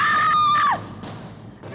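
A woman's high, piercing scream holds steady and loud for about three-quarters of a second, then bends downward and cuts off, leaving a faint room hush behind it.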